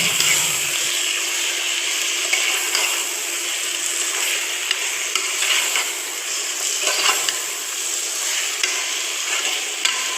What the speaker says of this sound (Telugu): చికెన్ వేసి కొంచెం కలబెట్టి